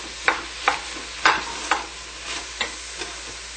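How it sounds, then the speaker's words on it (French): Apples being stirred in a frying pan while cooking, with about seven separate scraping strokes at an uneven, unhurried pace over a low steady sizzle. "on a mis nos pommes, bien on brasse aussi régulièrement pour que ça colle"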